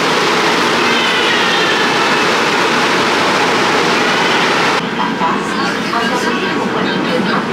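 Loud, steady rush of a Kuala Lumpur metro train in motion, heard from inside a carriage, with a constant broadband roar and faint rail rattle that shifts slightly in tone partway through.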